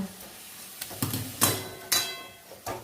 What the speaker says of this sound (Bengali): এবার এটাকে নাড়বো একটু নেড়ে চেড়ে নামিয়ে দেব